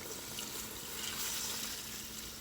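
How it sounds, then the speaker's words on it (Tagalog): Water hissing and splashing steadily into a cooking pot to make broth for chicken tinola, a faint, even pour with no voices. "Lalagyan po natin siya ngayon ng tubig para sa ating sabaw."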